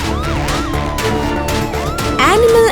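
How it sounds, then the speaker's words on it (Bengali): A loud, wailing ambulance siren in an animated children's story, rising and falling continuously, with a brighter, busier burst near the end. "অ্যাম্বুলেন্সটা খুব দ্রুত তাদের টিম নিয়ে সেখানে ছুটে এলো"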